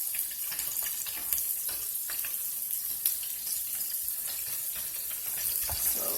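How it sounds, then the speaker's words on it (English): Calamari frying in oil gives off a steady, dense crackle and sizzle with scattered pops, close and unbroken, with no voices. "if you are going to make calamari, never leave the spot where you're frying the food"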